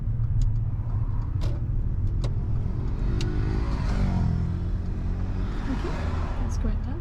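Car pulling over and parking at the kerb on the left during a driving lesson, a steady low engine rumble with tyre and road noise throughout, slowing slightly, with brief clicks.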